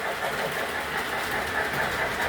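A model train runs along the track, with a Lionel engine pulling Atlas boxcars and an MTH caboose, giving a continuous close rolling rumble with faint clickety-clack and no talk.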